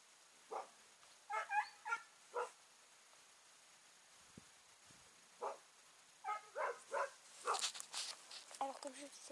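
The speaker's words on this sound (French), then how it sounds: "il y a eu le chien qui jappait" A dog barks and yips several times at moderate distance, short sharp bursts spaced irregularly with a quieter pause in between, mixed with faint background noise and brief whimper-like sounds.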